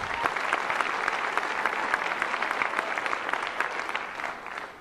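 An audience at a comedy show claps on cue, a dense, steady round of applause that holds evenly for a few seconds before tapering slightly at the end.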